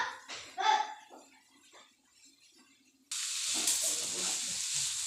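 Cooked lentil stir-fry (payaru upperi) is stirred in a hot pan. A few seconds of quiet voice-like sounds give way to a sudden, steady, loud sizzling hiss that runs to the end.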